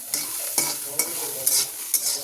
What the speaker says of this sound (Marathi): आता मी पुढची प्रोसिजर तयार करते असं भाजून घेते मस्त ह्याला